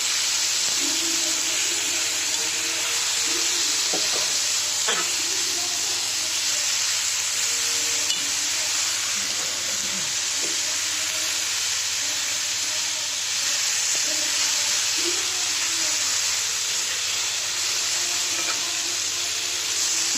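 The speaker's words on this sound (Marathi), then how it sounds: "पण चांगलं भाजून घेते भाजायला ह्याला उशीर लागणार आहे दहा मिनिट लागणार आहे" Potato frying with onion-garlic paste in a pan, a steady broadband sizzle and hiss running throughout, with scattered faint clicks and scrapes of a utensil against the pan.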